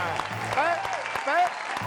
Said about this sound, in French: Les gars, on applaudit pour lui.